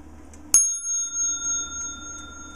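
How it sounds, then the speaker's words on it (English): A Seth Thomas 89C mantel clock movement strikes its half-hour bell once, a bright, sudden ring that hangs and slowly decays over a quiet background. "showing the bell that goes off on the half hour."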